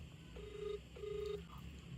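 A phone placing a call gives two faint, evenly spaced ringing tones, each lasting about a third of a second, over a quiet background hum.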